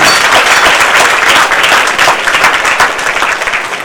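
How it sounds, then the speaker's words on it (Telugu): Hearty applause from a gathered crowd at a temple anniversary celebration for the goddess, greeting the local MLA, sustained dense clapping throughout at full loudness with no voices on top. "అందరం కూడా వారికి ఒక్కసారి చప్పట్లతో స్వాగతం పలకాలని చెప్పి"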